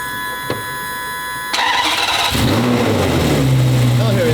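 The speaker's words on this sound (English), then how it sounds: "All right, start it." A car engine cranks and catches, then settles into a steady idle with a faint metallic rattle in the old engine bay, while people talk nearby.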